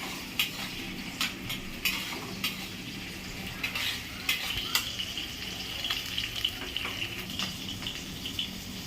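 Potatoes fry in oil while being stirred, a steady low sizzle broken by frequent clinks and scrapes of a utensil against the pan.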